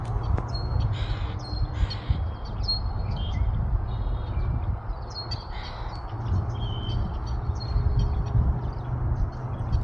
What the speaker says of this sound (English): You can hear those birds.